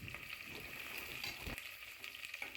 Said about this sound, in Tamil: ஃபஸ்ட்டு குக்கர் வச்சுட்டு ஆயில் போட்டுட்டு வெங்காயம், பச்சை மிளகாய் எல்லாம் போட்டு பொன்னிறமாக வதக்கணும்.